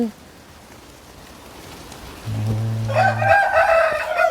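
A rooster crows once close by, starting as a low harmonic call and rising into a loud, bright crow over a quiet background.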